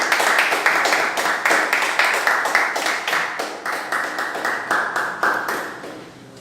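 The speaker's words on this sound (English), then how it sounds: "Please have a huge round of applause." A small group applauds a table topics speaker, with a few people clapping briskly at a steady, rhythmic pace for several seconds, close and clear, the clapping tapering slightly toward the end.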